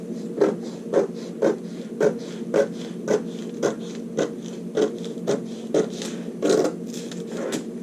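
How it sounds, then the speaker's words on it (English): Scissors cut out fabric for a skirt front facing, starting along the lower edge, with a steady run of about a dozen evenly spaced rasping snips close by and no talk. "Now you can go ahead and cut your facing out."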